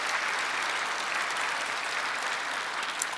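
A church congregation at a Sunday worship service breaks into sustained, even applause, a dense wash of many hands clapping with no talk over it.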